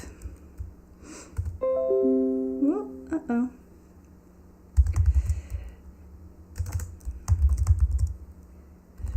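Rapid clicking of computer keyboard keys while code is typed, in uneven bursts with short pauses, joined by a few brief electronic tones and a voice speaking now and then.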